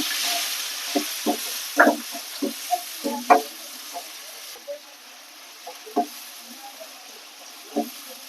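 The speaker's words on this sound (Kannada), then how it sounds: "ಸ್ವಲ್ಪ ಜೀರಿಗೆ ಹಾಕೊಳ್ಳೋಣ. ಹಾಕೊಂಡು ಈರುಳ್ಳಿ ಕರಿಬೇವು ಹಾಕೊಂಡು ಫ್ರೈ ಮಾಡ್ಕೊಳ್ಳೋಣ." Cumin, onions and curry leaves frying in a pan, a soft steady sizzle broken by several sharper stirring scrapes and clinks, close and fairly quiet.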